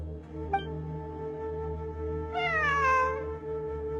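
A cat in the video game Genshin Impact gives a faint short mew, then a longer drawn-out meow with a falling pitch, heard over a steady low hum of game ambience.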